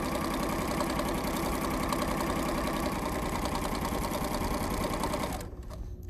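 An embellishing or felting machine punches needles through fabric in a loud, rapid mechanical chatter that runs steadily, then stops abruptly near the end, leaving near silence.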